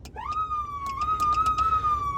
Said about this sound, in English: similar to a mechanical siren, pressing it revs it up and releasing it winds it down